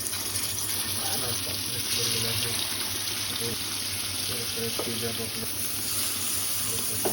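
Pomfret fish frying in oil on a large griddle pan, a continuous close sizzle with some watery crackle, while people talk over it.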